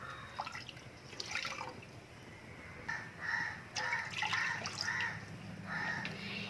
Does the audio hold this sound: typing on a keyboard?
no